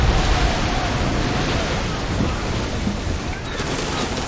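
A storm in the Odyssey video game brings loud, steady rain and deep rolling thunder, a thick, unbroken wash of noise that eases slightly toward the end.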